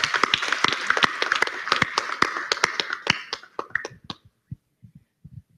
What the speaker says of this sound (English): So I think we need to give you a big round of applause